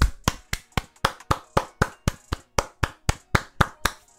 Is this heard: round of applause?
yes